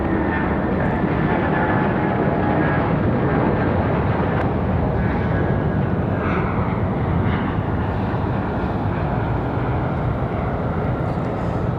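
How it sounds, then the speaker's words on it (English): A Delta Airbus A220 jet takes off from a runway at Raleigh-Durham International, giving a loud, sustained broadband engine roar that fills the whole stretch without easing off. "Delta A220 cleared for takeoff already."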